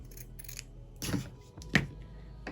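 Scissors snip through leather while making a hand drum drumstick, two short crisp cuts close by with quiet pauses between.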